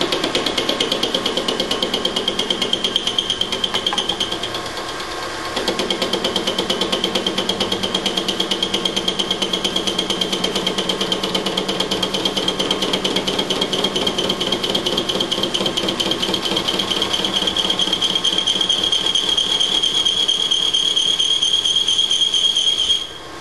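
Lathe-type machine tool taking a 1 millimeter cut on a BMW connecting rod, a steady loud metallic whine with a high tonal ring running continuously, dipping briefly early on, no talk.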